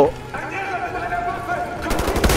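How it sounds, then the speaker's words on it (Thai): Shotgun fire in the video game Wolfenstein: The New Order, with loud blasts bursting over a dense, continuous game soundscape, the heaviest burst coming near the end. "โอ้ย ลูกซองว่ะ"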